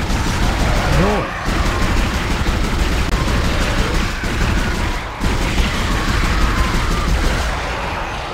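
Weapon fire in the Dead Space video game: a loud, nearly continuous barrage of shots with a couple of brief dips, dense and harsh, mixed with other in-game noise.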